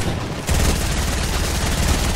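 Rapid gunfire from the Fortnite video game, a dense, loud burst of automatic shots that starts after a brief lead-in and continues without letup.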